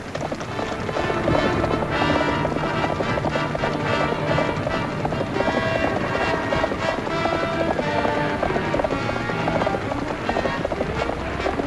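Horses gallop through a 1954 western TV scene, a steady drumming of hoofbeats running loud and continuous throughout, layered with a music score and other dense background sound.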